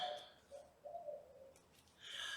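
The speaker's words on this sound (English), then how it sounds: "If anybody knows what kind of bird that is, let me know." A bird, likely a dove, calls outdoors in the early morning: a brighter call at the start, soft low coos in the middle, then another clear call at the end, moderately near and otherwise alone.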